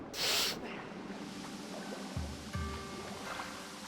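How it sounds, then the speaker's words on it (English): Steady rushing water of a waterfall in Zelda: Skyward Sword fills the background as a continuous broadband hiss, with a brief louder burst near the start and a couple of soft low thumps later on. "it just leads me to this waterfall again"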